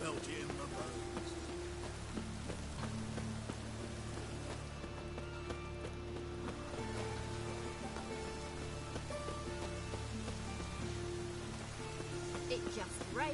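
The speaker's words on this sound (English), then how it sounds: "It just rains and rains." Steady rain falling on surfaces in The Witcher 3, a continuous soft patter that runs the whole time beneath game music and occasional character voices.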